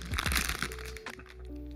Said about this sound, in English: Well, they're certainly crunchy when it comes to lots of them.